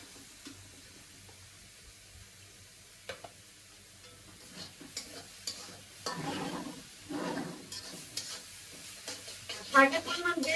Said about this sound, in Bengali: এখন হইলো টমেটোর চাটনিটা বাগার দিব